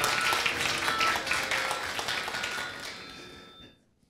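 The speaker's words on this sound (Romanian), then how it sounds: "Mi-a plăcut foarte mult cum ați aplaudat." A conference audience at Iasi Business Days 2015 applauds steadily, a dense wash of clapping that fills the hall and then fades away toward silence at the end.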